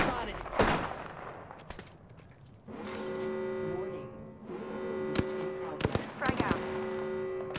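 Gunfire in a shooter video game comes as sharp cracks and short bursts, some near and loud, over a steady droning tone and constant ambient noise.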